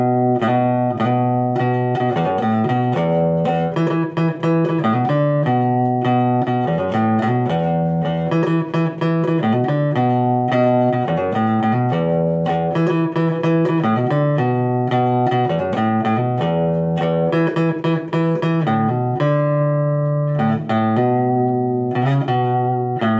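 An Encore Blaster series bass guitar plays a continuous melodic line of plucked notes with a steady rhythm, loud and close, with no talking throughout.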